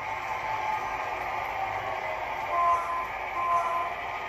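An HO scale model train rolls out of the yard on a home layout, giving a steady, close mechanical hum and whine that swells briefly a couple of times.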